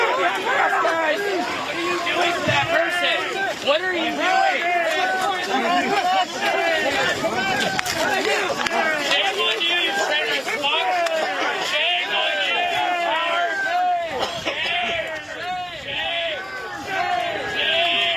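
A large crowd of protesters facing federal agents, a dense mass of overlapping shouting voices and chant-like calls, loud and continuous, with a nearby voice speaking over it.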